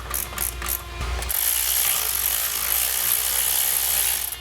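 A ratchet spun hard on a Ford Falcon, a few quick clicks and a thump at the start, then a fast, continuous whirring ratchet buzz that runs close and loud to the end, with no talking.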